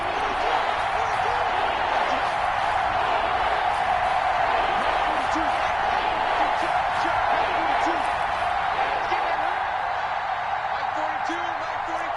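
Crowd noise in a video game American football broadcast, a steady sustained roar of cheering fans filling the background throughout, with commentary voices talking over it.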